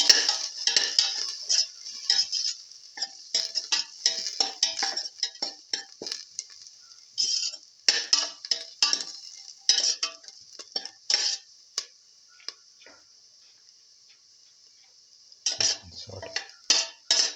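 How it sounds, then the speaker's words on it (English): Scrambled egg, potato and fenugreek leaves are sautéed in a pan with a spatula, making rapid, close scraping and clinking strokes in busy bursts with a few quiet pauses and no voices. "Saute it."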